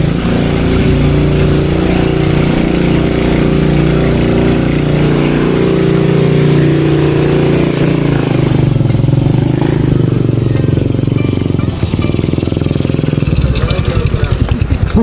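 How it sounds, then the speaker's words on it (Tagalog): A motorcycle engine runs loud and close throughout, a steady droning idle that shifts in pitch toward the end as it moves past along a road near flooded water. "may dadaan lang na motor"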